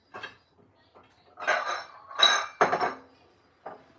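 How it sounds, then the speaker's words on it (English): Raw chicken pieces are set into a glass bowl in a home kitchen, giving a few separate clinks and clunks with short scraping handling noises between them, close and clear, with no talking. "We're gonna put them in a glass bowl."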